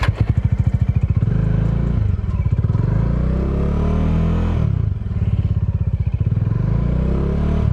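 A motorcycle stuck off-road strains free with a loud, steady engine roar and rhythmic revving surges, its pitch dipping briefly midway before climbing again.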